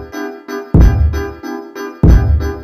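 A punchy kick drum sample lands on the beat with deep booming hits roughly every second and a half, layered under a looping tonal synth pattern in a produced hip-hop beat.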